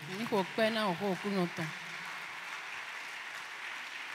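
A church congregation applauds at a French-language service, a steady wash of clapping rising after a short burst of voice and continuing evenly to the end.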